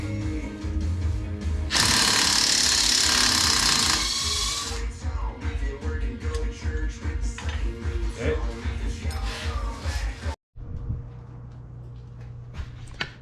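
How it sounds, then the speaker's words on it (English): An impact wrench works on a quad during rear wheel bearing repairs, giving close, loud mechanical rattling and hammering bursts, with a louder, harsher stretch early on and a brief cutout near the end. "Okay, now the impact should do it."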